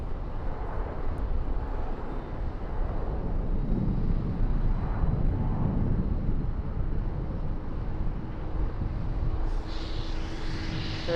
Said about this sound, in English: American Airlines 173 coming in from London on this Boeing 777-200.